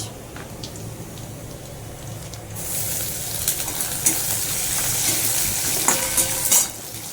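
Garlic, dried chili and onion fry in a pan. A low background crackle swells into a brighter, louder sizzle partway through, and occasional utensil scrapes and clicks sound against the pan.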